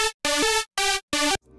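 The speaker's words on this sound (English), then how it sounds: "Without the pitch bend, it sounds like this." A gabber-style UK hardcore kick synth without pitch bend hits in three loud, buzzing, distorted bursts of steady pitch separated by short silences, followed by a faint low tail.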